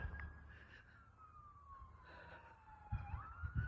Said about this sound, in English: there's sure been a lot of sirens around here